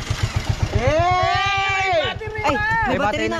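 A motorcycle engine started by remote keeps running with a fast, even low thumping throughout, under loud, excited talking voices.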